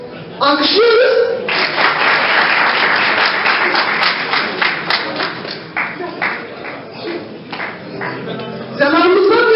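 An audience at a Dersim night event in Strasbourg, France, applauds a four-year-old child with a loud burst of clapping that gradually thins out, while voices speak over the start and end.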